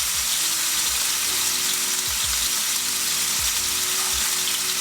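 Steak frying in a hot pan, a steady loud sizzle that crackles without a break, with a few low clunks of the pan and meat being moved.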